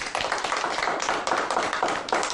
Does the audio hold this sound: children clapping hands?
yes